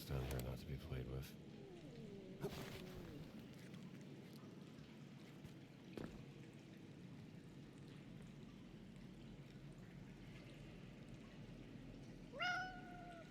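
A cat in the video game Indiana Jones and the Great Circle meows several times, with a drawn-out wavering mew near the start, another in the middle and a final bright meow near the end, over quiet dripping ambience.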